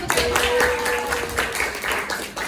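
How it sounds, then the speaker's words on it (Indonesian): Classmates clap together in a vocational high school classroom in Jakarta, a dense burst of hand claps lasting a couple of seconds that fades near the end. "Oke, tepuk tangan dulu."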